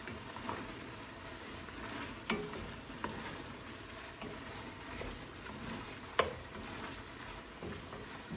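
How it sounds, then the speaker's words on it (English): Onion sautés in butter with shrimp boil seasoning for shrimp étouffée, a soft continuous sizzle with occasional gentle stirring scrapes and a couple of light utensil taps. "we're gonna mix that all in with the onion while it sautés"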